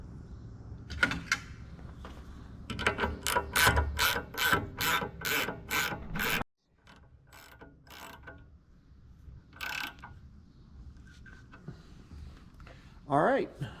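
A ratchet clicks in quick repeated bursts while tightening a lock nut on a Gleaner R72 combine being set up for wheat and rye, close and fairly loud, followed by a pause and a few scattered mechanical clunks.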